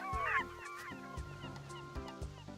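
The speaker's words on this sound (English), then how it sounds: "Why did the seagulls get aggressively loud there for a second?" Seagulls in the video game Discounty squawk loudly in a burst of harsh, honking cries, repeating several times over a soft background of game music.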